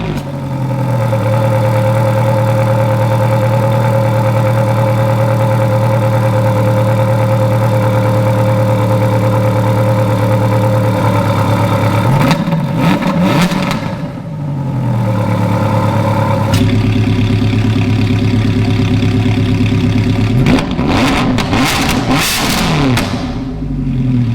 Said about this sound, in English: So you can see much louder, a lot more like a snap and crackle to it.